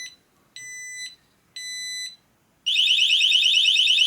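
Two spaced electronic beeps from a motorcycle alarm are followed by a loud, continuous warbling alarm tone that keeps sounding to the end.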